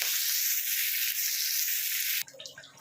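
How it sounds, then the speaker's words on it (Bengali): Onions frying in a pan for egg curry, a steady, close broadband sizzle that holds evenly for about two seconds, then cuts off abruptly into quieter clattering and faint background sounds. "পেঁয়াজটাকে আমি একদম এরমভাবে লাল করে ভাজবো"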